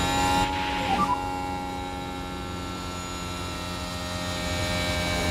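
Formula 1 car engine braking in the F1 Manager 2026 racing game at Belgium, a steady droning engine tone with layered harmonics holding throughout, close and continuous with no talk.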